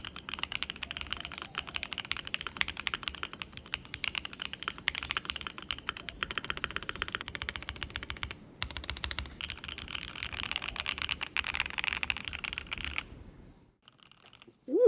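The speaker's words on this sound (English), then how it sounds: "this keyboard just sounds really poppy, and I love the sound." Rapid, steady typing on an ASUS pre-lubed mechanical keyboard gives a close, crisp, poppy clatter of keystrokes for most of the stretch, then stops near the end.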